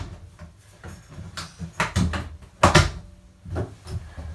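Door of a Whirlpool WFC7500VW2 front-loading washing machine being handled and pushed shut after refitting, several knocks and clunks of varying loudness, the firmest thud near the end, no talking.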